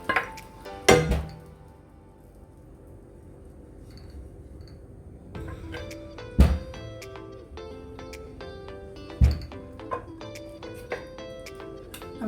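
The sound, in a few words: cooked chicken being added to tikka masala gravy in pan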